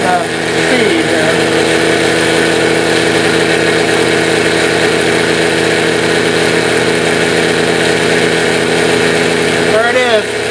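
Coil-driven motor powered through a transformer, spinning at about 5,000 RPM with a loud, steady, continuous hum and whine that holds throughout, with a brief rising chirp near the end.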